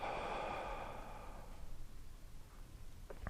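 A long audible exhale during a qigong breathing exercise, a breathy hiss that fades over about a second and a half, followed by quiet room tone and a faint sniff at the end.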